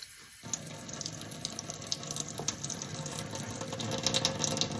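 A kitchen faucet fitted with a Brita faucet-mount filter is turned on, releasing a steady, close hiss of running water that slowly grows louder, with slight clicking from the fixture.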